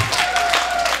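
Brief scattered clapping from a church audience, a second of soft, uneven claps.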